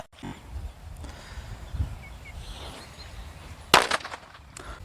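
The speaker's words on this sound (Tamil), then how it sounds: "ஓகே, நல்லா வெடிக்குது." A single sharp bang from a Diwali country firecracker (nattu vedi) pops outdoors after a few seconds of quiet background rustle, followed by a brief fading crackle.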